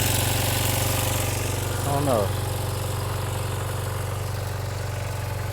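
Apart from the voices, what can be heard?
Kawasaki Ninja 250 motorcycle engine idling while warming up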